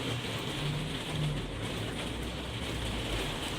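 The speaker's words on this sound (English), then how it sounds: "I'm so sorry about the rain." Rain falls outside a home craft room, a steady, dense hiss of drops on surfaces with a faint low rumble beneath, continuous and unbroken, with no one speaking.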